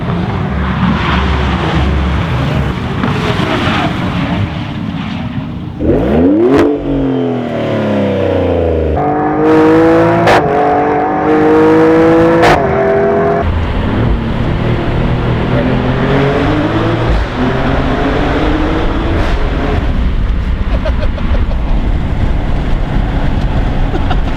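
A Maserati Grecale Trofeo SUV engine revs hard inside a tunnel with the windows down, rising and falling through several loud pitch sweeps and gear changes, close and echoing, with no talk over it.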